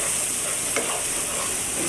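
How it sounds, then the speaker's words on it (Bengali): Spices with ground coriander and green chilies sizzle steadily in oil while being stirred for a chicken tehari, a continuous loud hiss with one brief scrape of the spoon partway through. "এগুলো আমি একটু ভালো একটু কষে নিই।"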